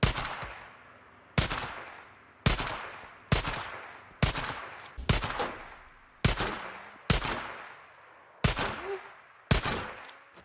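Sidearm pistol shots in the video game Days Gone, nine evenly spaced sharp single reports about a second apart, each loud crack followed by a short decaying tail, with no talking.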